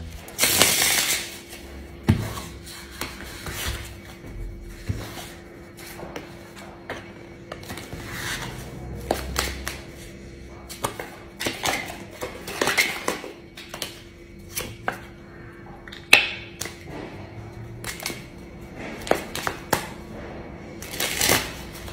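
Playing cards being shuffled and handled, with a loud riffle burst at the start followed by scattered crisp snaps and taps of cards, close up with no talk.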